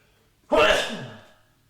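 A single loud, close sneeze bursts out sharply and trails off, with no talking around it.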